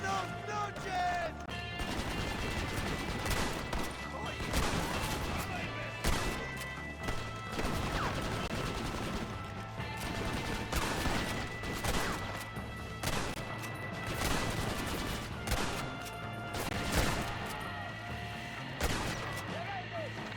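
Heavy bursts of gunfire crack through a Red Dead Redemption shootout, loud irregular volleys and rapid strings of shots following one another over a rumbling game background.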